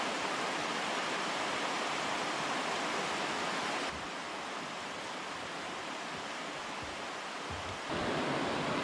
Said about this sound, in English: There's a pretty sweet rock slide waterfall